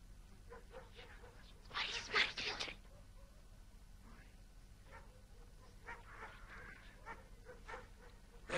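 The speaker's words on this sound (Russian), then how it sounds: "Ты зачем привел этих щенков ко мне?" Puppies yip and whimper faintly in short scattered bursts in a quiet room, with a louder burst of barking early on.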